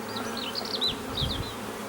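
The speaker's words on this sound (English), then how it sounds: "they're nice and calm bees, they don't need lots of smoke" Calm honeybees buzz around an open hive during a queen-rearing artificial swarm inspection, a steady close drone with shifting higher-pitched wingbeats passing near, and no voices.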